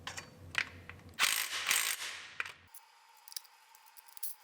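Ratchet clicking rapidly as bolts are tightened on a Honda Civic engine being installed, several close bursts of sharp ratcheting in a row, then quieter clicks near the end.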